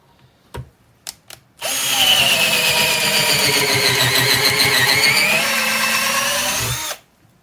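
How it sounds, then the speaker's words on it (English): An ALTOCRAFT 20V MAX cordless drill with a 1/4-inch bit bores into wood, a few quick clicks followed by a loud, steady high-pitched motor whine for about five seconds, then stopping abruptly. "This is the 1/4 drill bit for the wood. We'll put it into the drill mode and let's see."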